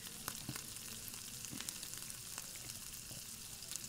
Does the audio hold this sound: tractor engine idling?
no